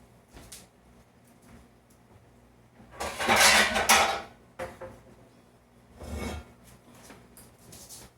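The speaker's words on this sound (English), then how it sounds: "let me get this pot over here" Metal cookware clatters and scrapes as a pot is shifted around, a loud burst of rubbing and clanking followed by a shorter bump a few seconds later.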